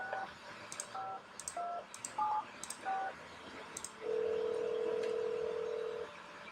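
A telephone in the video game No I Am Not Human dials the neighbor with a quick run of clear keypad tones. A steady ringing tone follows for about two seconds.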